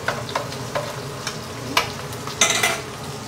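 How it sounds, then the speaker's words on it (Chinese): Chili padi fry in a little oil in a claypot over low heat, giving a continuous close crackling sizzle with a few sharper pops and stirring clicks. There are no voices. "我们的是30g 的小米啊，放点油啊，来煎一下。"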